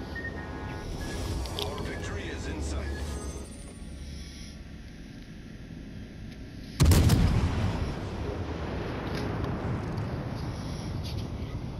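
The Belfast, a tier 6 premium cruiser in World of Warships Legends, fires its guns in a sudden heavy boom partway through, after a stretch of rumbling background and softer distant bangs, with a voice talking over it.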